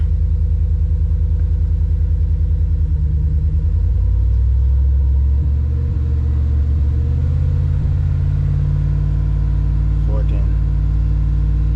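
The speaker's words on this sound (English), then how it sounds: "But I'm gonna rev the motor." A boat motor runs and revs while warming up, a loud, continuous low rumble that swells slightly as the engine is revved, steady throughout.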